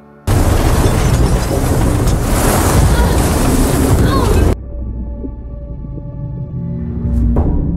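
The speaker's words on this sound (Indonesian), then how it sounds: "ombak tersebut menggulung kapal mereka" Heavy, roaring surge of storm waves crashing over a boat and churning for several seconds, then cutting to a quieter rumble with scattered knocks and a faint rising whoosh.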